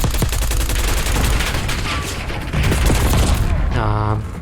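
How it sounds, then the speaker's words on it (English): Rapid bursts of gunfire from all sides in Black Ops 6, close and loud with booming hits layered through the firefight, before a voice cuts in near the end. "Getting shot from all directions here."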